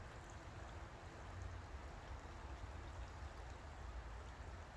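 The Mill River flows steadily along a park hiking trail, a faint, even wash of running water with a low rumble, unchanging across the whole stretch.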